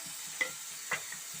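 Green chillies and tomatoes frying in oil for a Telugu-style yogurt amaranth chutney, a faint, steady sizzle with two brief scraping stir sounds standing out alone.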